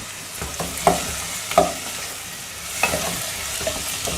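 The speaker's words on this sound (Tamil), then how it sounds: "குடமிளகாய் போட்டு வதக்கலாம்" Capsicum sautéing in a pan for tawa rice, with a steady sizzle of frying under sharp scrapes of a spatula stirring it, close up and with no talk.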